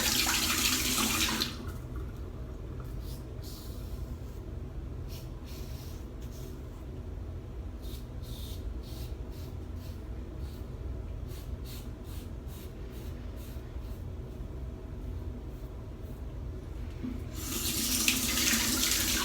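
A sink tap runs in a steady rush during rinsing while shaving a head, loud at the start and end and quieter in between, with a series of faint taps and clicks.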